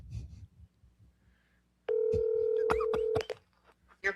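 A phone dials out with a crisp electronic keypad tone held for over a second, then a run of short sharp beeps, heard close and clear after a brief murmur of low talking.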